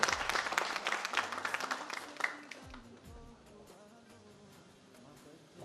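Applause from an audience at a cultural gathering honoring guests with a traditional cap, dense clapping at first that thins and fades over several seconds, with faint voices underneath.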